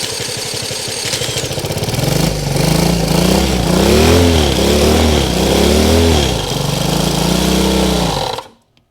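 A Honda CL90 motorcycle engine runs loudly up close, revving up and down in repeated surges before cutting off abruptly at the end.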